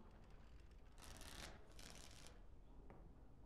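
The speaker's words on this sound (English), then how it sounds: "Before we start, the cards must be shuffled." Cards are shuffled for a game of Wicked Grace in the Dragon Age Origins video game, two quick riffling bursts in close succession, fairly quiet and heard alone.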